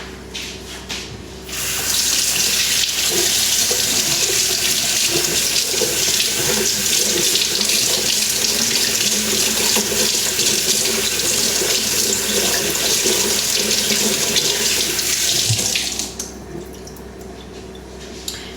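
Tap water runs steadily from a kitchen faucet into a sink as fish is washed, a loud, continuous splashing rush lasting about fourteen seconds before it is shut off, with no talking.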